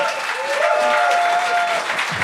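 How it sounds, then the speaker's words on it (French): A studio audience at a comedy talent show gives a short burst of dense, loud applause for a comedian, with a sustained tone running beneath the clapping. "Faites un tonnerre d'applaudissements pour Ali Raffet!"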